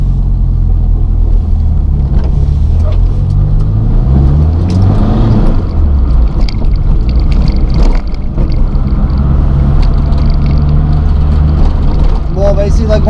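A Renault Super 5 GT Turbo drives a loop on the road, its engine droning loudly and steadily with rising and falling revs heard from inside the car as people talk.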